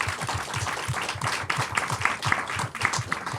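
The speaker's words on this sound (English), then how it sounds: "Give yourself a round of applause." A dense, steady wash of audience applause at an evening public debate on Mumbai and the climate crisis, with many hands clapping together throughout at a fairly even loudness.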